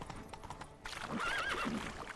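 Hoofbeats clop along as a horse is ridden in The Witcher 3, followed by a loud whinnying neigh, close and clear over game ambience.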